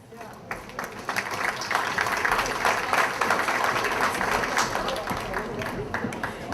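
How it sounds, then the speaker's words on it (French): An audience at a volunteers' evening applauds, a dense, even wash of clapping that swells and holds for several seconds, with voices mixed in. "on l'applaudit quand même"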